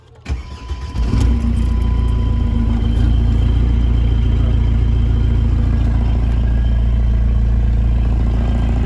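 A Chrysler PT Cruiser with a worn-out clutch cranks briefly, then its engine catches and settles into a loud, steady idle close to the listener, running alone without speech.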